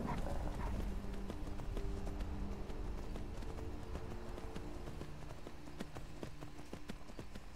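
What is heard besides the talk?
horse hooves clip-clopping in video game Skyrim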